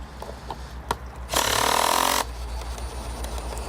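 Hikoki hydraulic impact driver sinking a screw into wood, a short, fairly quiet burst of about a second under light background noise.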